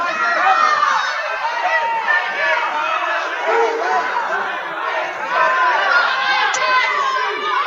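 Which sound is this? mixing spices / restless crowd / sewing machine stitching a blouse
restless crowd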